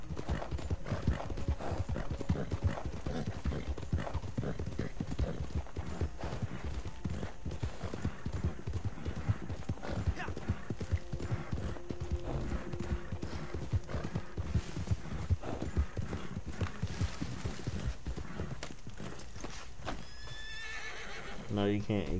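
Hooves clip-clop steadily in Red Dead Redemption 2 while a horse neighs and whinnies, rhythmic and close throughout, with people talking over the game sound.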